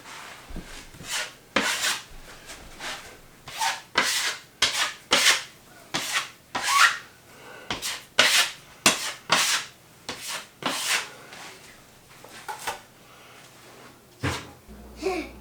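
A drywall scraper drags joint compound across a mobile home wall in repeated rasping strokes, close and fairly loud, with a steady uneven rhythm of about one swipe per half second and no voices.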